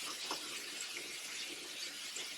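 Tap water running steadily into a sink while hands are rinsed during a skincare routine, an even, soft hiss with slight splashing throughout, no talking.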